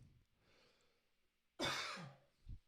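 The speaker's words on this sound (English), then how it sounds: "it's a freaking cough" One sharp, close cough bursts out of near silence, followed by a brief throaty catch, with soft faint breathing beforehand.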